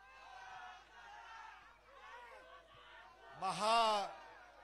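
Crowd chants and cheers at a political procession rally in Dharashiv, a rolling roar of many voices that swells into a loud collective shout near the end.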